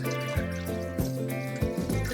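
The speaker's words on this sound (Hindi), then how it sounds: "अभी मैं और थोड़ा पानी ऐड कर रही हूँ।" Water added from a container to soaking lentils for khaman dhokla splashes and gurgles in a steady stream, with a few louder sloshing pulses, close up and without talk.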